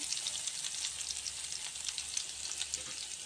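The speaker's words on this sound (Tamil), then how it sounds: "லைட்டாக எண்ணெயில் வந்து இந்த பூண்டு பல் வந்து லைட்டாக வதங்கட்டும்" Garlic cloves fry lightly in oil with a faint, steady sizzle and small crackling pops, quiet and close with no talk, ahead of a village-style prawn gravy.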